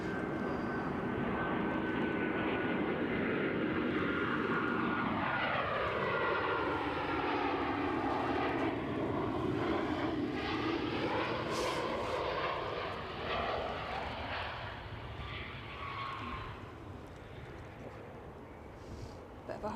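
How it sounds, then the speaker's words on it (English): A Ryanair airliner lands at Edinburgh Airport, its engine roar loud and steady for nearly twenty seconds while the pitch sweeps down and back up as the jet passes close by. A person speaks faintly beneath the noise. "Bit of a hard landing."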